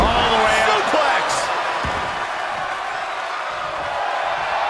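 A suplex slam in the WWE 2K23 video game, Kamala versus Undertaker: a dense roaring arena crowd fills the clip, with a thud of impact early on and commentary running underneath.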